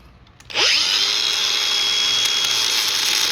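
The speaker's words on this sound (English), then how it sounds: "let's tack this fucker with the grinder" An angle grinder spins up abruptly and bites into an old brass water meter, then holds a loud, steady high-pitched whine close by.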